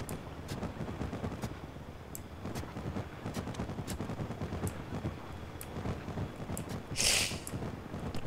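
Guns mounted on a Trailmakers vehicle build fire in a steady series of rapid, light shots over a rumbling engine and game background noise, with one louder burst near the end.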